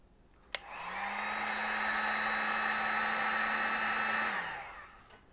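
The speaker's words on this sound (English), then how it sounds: "Now, gonna take our heat gun, put some heat into it." A heat gun blows onto an aluminum fork part on a Harley Lowrider ST, switching on with a click and running as a steady, loud, close whirring hiss for about four seconds before winding down.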